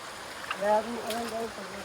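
Steady running water from a river in Alaminos, Laguna, a soft continuous rush with faint trickling, while a voice talks over it.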